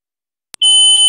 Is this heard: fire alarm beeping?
yes